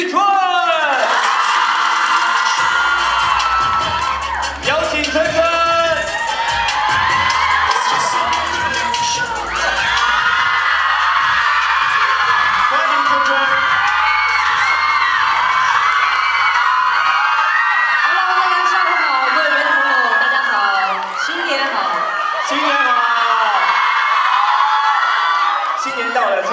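A live crowd at a digital album celebration shrieks and cheers loudly and without pause, with high, piercing whoops and yells from many fans filling the whole stretch over a dense roar.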